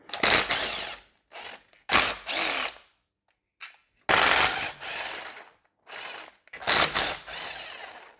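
A power tool spins out cylinder head bolts on a BMW M51 engine from a Range Rover P38. It comes in several loud, whirring bursts of varying length, separated by short silences.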